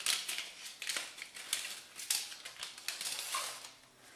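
Packaging for an early pregnancy test is torn open up close, a string of crisp crinkling and ripping rustles in irregular bursts, fairly quiet, with no talking over it.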